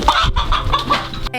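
A stuck meat-bird chicken on a farm gives a quick burst of close, loud clucking over a dense, rough background of rustling and handling noise, cut off abruptly near the end.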